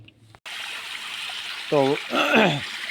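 Irrigation water turned on in a papaya field, a steady broadband rush of flowing water that starts abruptly after a short pause and runs continuously, with a voice speaking over it near the end.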